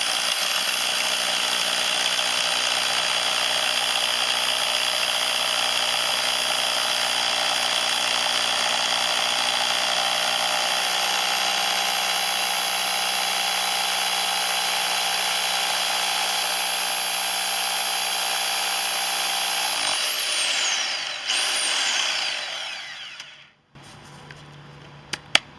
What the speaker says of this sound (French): je vais essayer de percer ce pavé de porphyre. Donc je suis sur la vitesse 6, percussion avec perçage